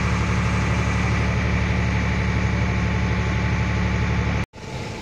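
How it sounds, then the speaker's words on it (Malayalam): A ferry boat's engine running steadily at a harbour crossing, a loud continuous low drone with constant vibration, cutting out abruptly for a moment near the end and then resuming. "നമ്മുടെ ബോട്ട് ഇതേ ഫെറിയിലേക്ക് എടുത്തുകൊണ്ടിരിക്കുകയാണ്"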